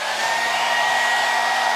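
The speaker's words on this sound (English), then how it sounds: "my nice and trusted blow dryer" A blow dryer runs steadily at close range, a loud continuous whooshing blast with a faint motor whine, used to defrost a switched-off deep freezer.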